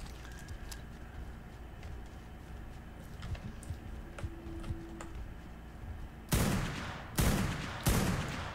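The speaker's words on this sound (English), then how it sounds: "Shot him one too many times. I get carried away with this sniper rifle" Sniper rifle shots in ARK: Primal Fear on a volcano map, three loud sharp cracks in succession after a quieter stretch of ambient creature and movement sounds.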